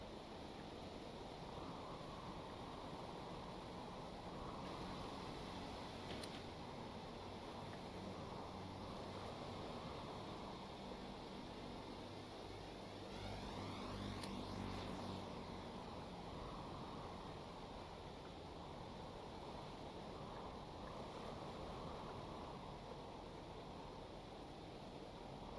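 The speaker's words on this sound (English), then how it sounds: "These are big waves. You gotta be really careful." Big ocean waves rolling in the Stormworks game, a continuous, steady broadband wash of surf with a slight swell midway, alone and without voices.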